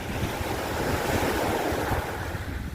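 Sea waves rolling onto a Tyrrhenian Sea beach in Italy, a loud, continuous washing roar of surf with steady wind rush over the microphone.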